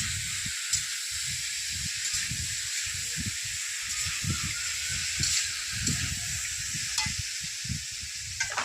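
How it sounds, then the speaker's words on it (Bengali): Gusty wind blows outdoors at a village cooking spot, thumping in repeated low buffeting gusts over a steady sizzling hiss of frying. "দমকা হাওয়া আসছে"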